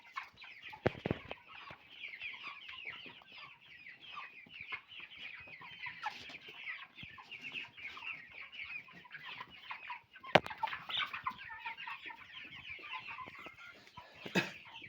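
Cobb 500 broiler chickens cluck and chatter steadily as a flock while feeding in a poultry house, a dense continuous murmur of many birds with a few sharper bumps and flaps, no talking.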